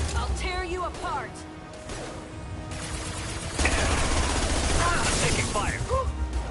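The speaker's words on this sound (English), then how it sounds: "Taking fire." Rapid gunfire bursts and metallic impacts from the Mass Effect video game, with clattering mechanisms and crashes under voices speaking, growing denser and louder partway through.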